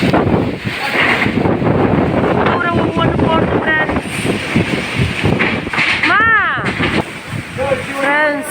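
Strong gusty storm wind in Tiruvannamalai district roars and buffets the microphone throughout, loud and close, with a person talking and a few high bird-like chirps underneath.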